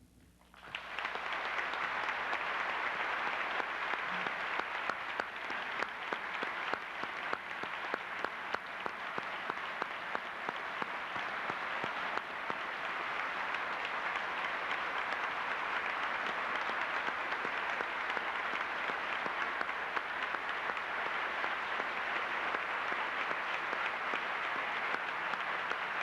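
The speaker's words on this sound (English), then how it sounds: "Senator Hatfield, I believe the applause and the actions of the audience conveys" A lecture hall audience applauding at the end of a Landon Lecture by Senator Mark Hatfield, dense sustained clapping that starts abruptly and holds steady and loud for nearly half a minute without talk.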